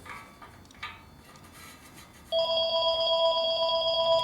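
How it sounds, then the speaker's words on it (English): A telephone rings with a steady electronic trill in a motorcycle restoration workshop, starting abruptly after quiet workshop clinks and continuing loud and close. "course I gotta have the phone interruptions"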